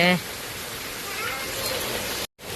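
Heavy rain pours down in a steady hiss, close and continuous, after a brief voice at the very start.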